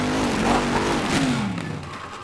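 A vehicle accelerates in the video game Plants vs. Zombies Garden Warfare, a steady revving engine tone rising in pitch, continuous and fairly loud throughout, then easing slightly toward the end.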